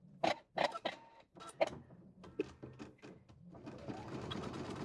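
An embroidery sewing machine stitches a felt gift card holder in the hoop, starting with a few separate mechanical bursts and then settling into a continuous whirring run, close by.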